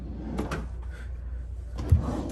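A few wooden knocks and slides as a drawer in a cruise ship stateroom is pulled open and pushed shut, with a sharper bump near the end.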